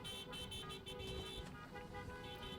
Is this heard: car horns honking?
yes